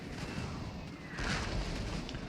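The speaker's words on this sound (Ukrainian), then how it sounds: "Артилерія намагається туди поцілити, але будиночки заважають." Artillery fire in the Napoleon: Total War battle at Arcole, a dense rumbling wash of distant cannon booms and crackling gunfire that swells louder partway through, with no voices.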